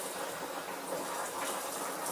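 Water runs steadily from a tap into a kettle in a kitchen, a continuous hissing gush at close range with no breaks.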